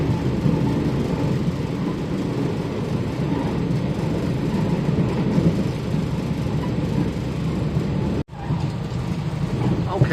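Steady rumble of a train running, heard from inside a carriage on the Hua Hin to Chumphon line in Thailand, a continuous loud low roar with a brief dropout near the end.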